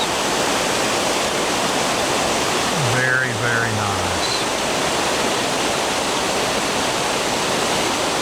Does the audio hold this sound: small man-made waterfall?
yes